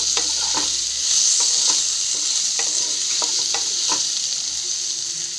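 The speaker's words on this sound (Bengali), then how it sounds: "নুন আর হলুদ দিয়ে আলুগুলো একটু ভেজে নেব।" Potatoes fry in oil with salt and turmeric, giving a loud, steady sizzle broken by several sharp clinks as a metal utensil stirs the pan, with no voices.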